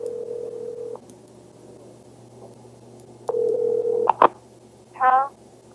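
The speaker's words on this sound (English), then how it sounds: "Tony places the call to the pay station number." A telephone calls a pay phone number, with a steady dial tone breaking off, a few short touch-tone beeps and a ring-like warble, faint and close over a quiet line hum.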